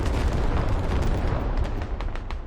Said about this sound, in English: that is Russian command artillery, and look, it's hitting a lot of nothing